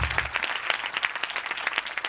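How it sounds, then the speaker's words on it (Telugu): An audience at a church prayer meeting breaks into brisk, dense applause, with many hands clapping together at close range for about two seconds and no speech over it. "చప్పట్లు కొడుతూ కనపరుస్తారా?"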